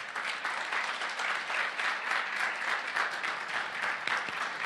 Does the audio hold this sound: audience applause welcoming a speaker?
yes